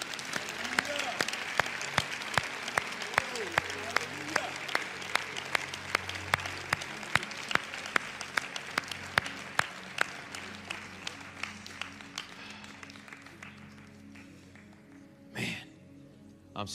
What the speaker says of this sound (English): let's give the Lord a hand clap for the victory.